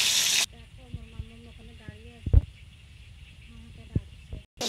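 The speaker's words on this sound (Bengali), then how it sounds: "দেখো, এখানে ভাজা হচ্ছে মাছটা।" Pomfret fish fries in a pan with a soft, steady sizzle, heard close beneath someone talking, with a couple of brief clatters.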